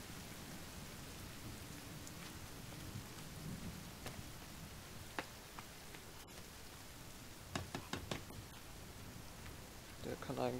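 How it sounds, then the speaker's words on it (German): Steady rain pours in the video game The Forest, a dense hiss throughout with several rumbles and cracks of thunder breaking through, and occasional speech. "Es regnet."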